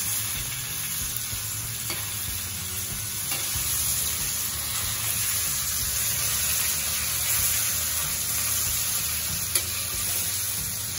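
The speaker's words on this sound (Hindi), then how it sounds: "और अभी हम दूसरे साइड भी पका लेंगे।" Snakehead murrel fish fries on its second side in hot oil, giving a steady, dense, close-up sizzle and crackle that holds fairly even throughout, with a few faint clicks and no speech.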